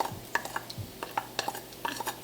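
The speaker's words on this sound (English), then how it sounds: "I'm gonna add cumin seeds and the fennel. We're gonna let this saute for half a minute," Cumin and fennel seeds sauté in hot oil while a spoon stirs the pan, producing a quick run of sharp metallic clinks and scrapes over a faint sizzle, fairly close.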